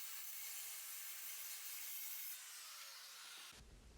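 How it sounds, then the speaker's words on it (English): A circular saw rips a thin strip off the end of a live edge wood board along a cutting guide, a steady loud whining cut that runs continuously and drops off abruptly near the end. "I just use a cutting guide and the circular saw to rip off just about 1/4 of an inch on each end"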